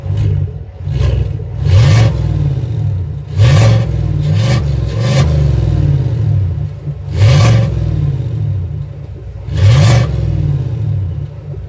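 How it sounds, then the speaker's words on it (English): A 2021–2022 Chevrolet Tahoe engine is revved with its exhaust valves open, giving repeated loud throaty blips at irregular intervals over a deep, rumbling idle. "Now the exhaust is open."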